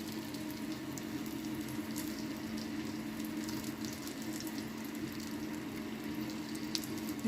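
Crispy mutton chops frying in a pan, a steady dense sizzle holding evenly throughout with no pauses, close and moderately loud, with no voices over it.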